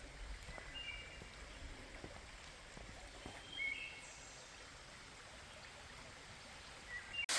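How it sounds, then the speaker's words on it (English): A stream runs over a broad bedrock slab in a wooded setting, giving a faint, continuous wash, with a few soft bird chirps and small knocks scattered through it. "We're actually walking through the middle of the stream right now on a big bedrock slab"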